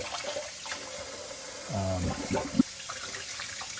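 Hot water runs steadily from a Delta single-handle faucet in a continuous hiss, with a brief clunk midway; no one speaks.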